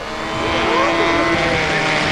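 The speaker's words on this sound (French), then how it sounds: "vient de prendre l'air également un avion d'acrobatie" An aerobatic model airplane taking off at a 1981 modelers' meeting in Yverdon, its engine a loud, sustained buzzing drone with pitch sweeping up and down as it climbs away, over faint voices.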